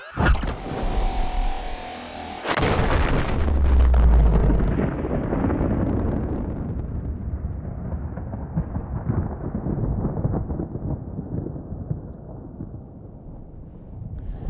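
The Aurora starship exploding in Subnautica, a sudden massive boom that rolls into a long rumbling roar and crackling debris, gradually fading over many seconds.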